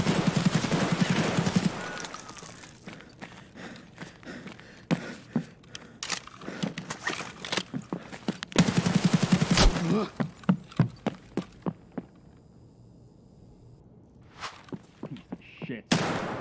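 Gunfire in Escape From Tarkov during an early-wipe match: loud bursts of rapid shots in clusters across the clip, with talk over parts of it and a quieter stretch near the end.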